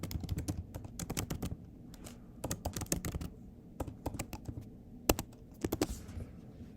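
Typing a campaign name on a computer keyboard: a steady run of close, crisp key clicks in irregular bursts, with a few louder taps standing out, no voices.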